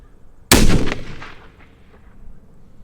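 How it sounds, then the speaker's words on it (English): A single loud, close rifle shot from a custom 300WSM cracks out sharply, then rings off in a decaying echo over roughly two seconds. "I'm gonna shoot one more"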